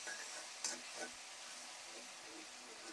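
Masala spices fry in a pan for a green-chili curry in a home kitchen. A steady, quiet sizzle hisses throughout, with faint stirring scrapes and taps of a spoon and a few small clicks.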